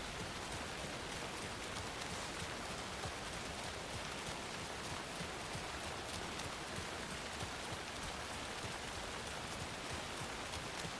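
Steady, even rain in the video game Alan Wake 2 falling without pause, a dense hiss of drops pattering on surfaces throughout, with no voices.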